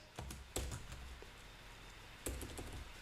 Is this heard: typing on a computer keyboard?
yes